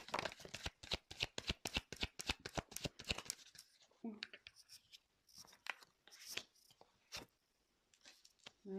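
Tarot cards are shuffled in a rapid run of crisp riffling flicks, then scattered slaps and shuffles follow more sparsely; a voice speaks quietly over part of it.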